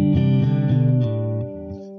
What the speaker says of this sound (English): the ghost echo